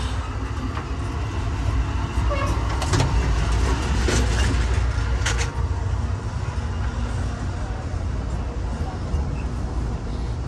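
Amtrak Southwest Chief passenger cars roll past eastbound from Kansas City Union Station, a steady loud rumble with wheel clatter and squeal throughout, a voice talking over it.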